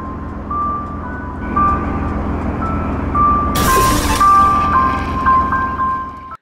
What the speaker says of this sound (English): the trailer starts off with a bus driving down Erie Street at night